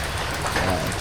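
Steady rain pouring outdoors around a home, a dense even hiss of drops on surfaces, fairly loud and continuous with no voices.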